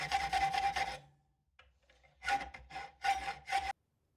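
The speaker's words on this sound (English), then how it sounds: "I wanted to try and mill out a little section here to make it even lighter with a carbide bit on" A Dremel rotary tool with a carbide bit mills a steel knife blank made from an old file, giving short bursts of high rasping whine. Loud passes come at the start and again as three cuts near the end, with a pause between.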